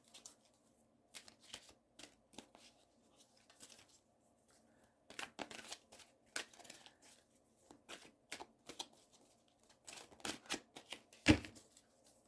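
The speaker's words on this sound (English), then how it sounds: "Three more shuffles." Playing cards are shuffled in quick, crisp bursts of riffling and snapping, close and fairly quiet, separated by short pauses, with one sharp louder snap near the end.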